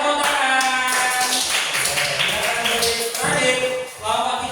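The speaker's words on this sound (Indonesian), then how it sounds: "Banyak tepuk tangan" Students in a classroom clap together in a lively, continuous round of applause, close and fairly loud, with voices mixed in under the clapping.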